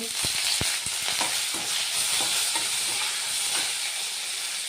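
Spices, garlic and tamarind fry in a pan for thuthuvalai rasam, giving a steady loud hiss and sizzle with scattered pops and crackles throughout, no voices.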